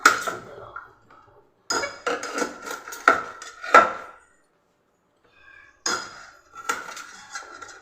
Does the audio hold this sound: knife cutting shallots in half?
yes